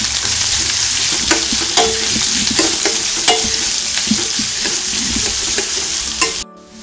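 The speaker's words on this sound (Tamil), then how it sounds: "இதெல்லாம் நல்லா வதக்கிடலாம்." Green chili, curry leaves, ginger and carrot sauté in hot oil with a dense, loud sizzle and frequent light stirring scrapes, close up with no speech, cutting off abruptly near the end.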